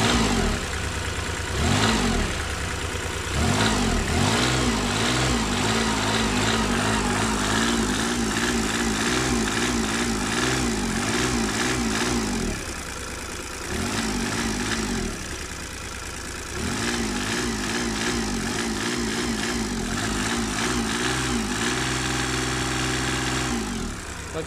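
Mitsubishi MM15T mini tractor engine runs evenly and steadily at idle with a loud, continuous mechanical drone, dipping briefly in level twice before settling back to the same smooth rhythm.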